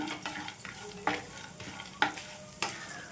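Coriander seeds and lentils dry-roasting in a pan over a medium flame for Telugu gongura chutney, a soft steady sizzle broken by several sharp scraping stirs close by, with no voices.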